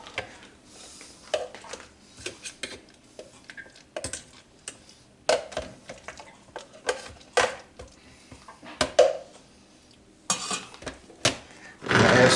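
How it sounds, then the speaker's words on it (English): A spoon stirs kumquat jam in a metal pot, giving repeated close clinks and scrapes in an uneven rhythm with soft sticky stirring between them and no talking. "Mix more."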